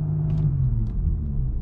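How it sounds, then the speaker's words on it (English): A 3.0T supercharged Audi B8/8.5 S4 engine with 034Motorsport launch control holds steady at launch RPM, a close, continuous low rumble with a constant drone and no rise or fall. "foot on the brake, mash the gas, and it'll hold at your launch RPM"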